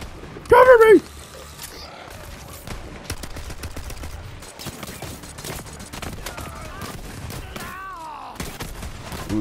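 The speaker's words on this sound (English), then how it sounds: "Light suppressive fire! Light suppressive fire!" Gunfire in the video game Borderlands 3, a burst of rapid shots and scattered cracks in a firefight, fairly quiet and intermittent under a player's shouting.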